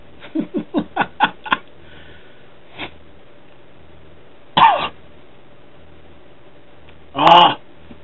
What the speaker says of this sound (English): It must be night time because the cough has started.